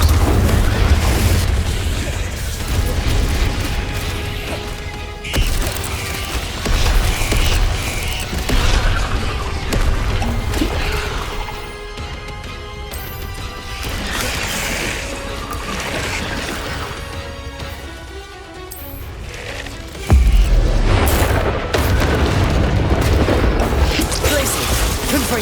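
Spell blasts and explosions in the video game Hogwarts Legacy, loud continuous booming bursts and crashes layered over game music, with heavier impacts around the middle and near the end.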